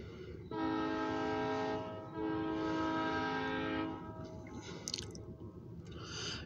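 A short freight train near Titusville sounds its horn in two long, loud blasts, with the rumble of rail cars underneath. Faint clanks follow as the train moves on.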